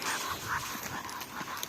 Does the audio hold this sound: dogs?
yes